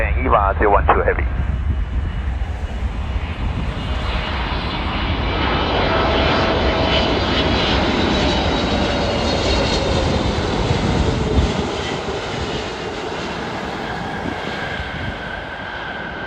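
A heavy EVA Air jet roars in to land on runway 24 right at Los Angeles International Airport, loud and close with a steady engine rumble that eases toward the end, while radio talk plays over it.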